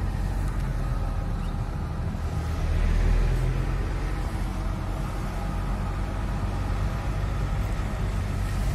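Belarus MTZ tractors pulling away, a continuous broad engine rumble with traffic-like wash that swells briefly, then settles into a steady roar.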